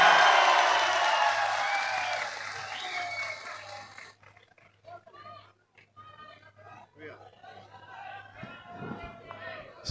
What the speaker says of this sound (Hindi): एक बार जोरदार तालियों से भाई